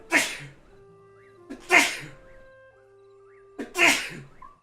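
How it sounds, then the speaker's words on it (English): Three loud sneezes spaced a couple of seconds apart, each a sharp close burst with a quick intake before it, over faint steady tones. "Hashtag sneeze compilation."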